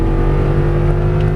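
An Audi R8 engine pulls hard on a race track through an upshift, a loud, close, steady high-revving drone with no pause.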